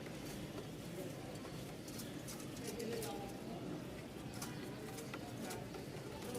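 Pigeons coo softly in the background while a person talks over them, the calls faint but repeated.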